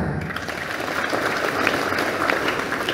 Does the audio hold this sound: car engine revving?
no